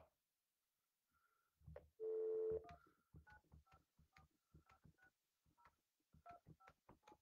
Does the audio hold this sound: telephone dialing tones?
yes